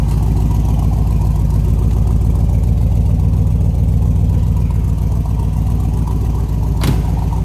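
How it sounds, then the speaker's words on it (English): A 1973 Chevrolet Corvette engine idles steadily with a low, continuous rumble and a brief sharp click near the end. No voices are heard. "you can see that engine and hear it run"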